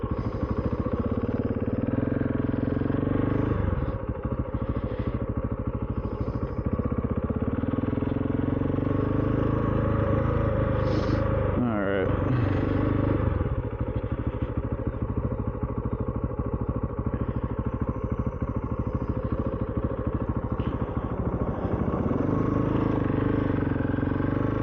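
A 2022 KTM 690 SMC-R single-cylinder motorcycle cruising along the road, its steady engine drone loud and continuous with wind rush and some clatter, rising and easing slightly with throttle changes throughout.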